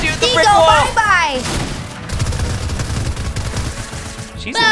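Rapid gunfire and thudding blasts in a Fortnite family duos match, heard under excited talk, a voice speaking over the opening second before the shots run on steadily to the end.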